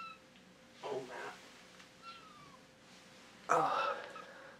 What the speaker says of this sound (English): My cat, ladies and gentlemen.